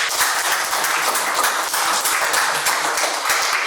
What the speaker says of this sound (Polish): Po mojej lewej Silver, brawa.